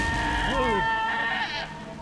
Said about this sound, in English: Can I use the sheep? Can I set them on fire?